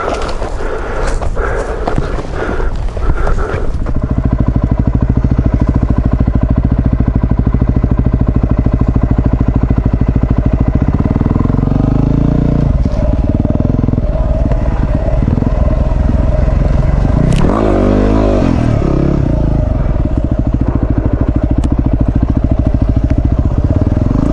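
A Yamaha WR250R dirt bike rides on a track, its single-cylinder engine loud and close with clattering over rough ground at first, then a steady drone with occasional revs.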